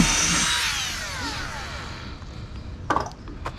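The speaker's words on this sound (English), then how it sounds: "Let's go ahead and drill this out." Power drill boring out screws on the front cap of a Super C RV, a close, loud whine that winds down over a few seconds, followed by a couple of sharp knocks.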